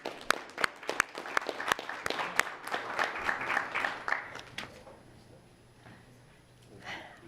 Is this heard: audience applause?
yes